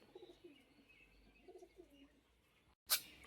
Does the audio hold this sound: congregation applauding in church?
no